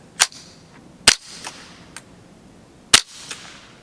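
Suppressed shots of CCI Subsonic .22 from a Performance Center TCR fitted with a Rebel Silencers SOS-22 give sharp, dry cracks, three main reports spaced irregularly, with fainter metallic pings of steel targets after.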